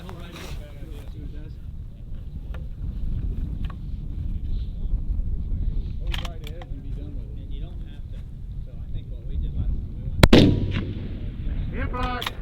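Rifle gunshots at a long-range PRS regional shooting match at White Oak Creek, targets out to 1400 yards: several sharp reports spread across the clip, with one loud close shot near the end and fainter ones before it, over wind noise.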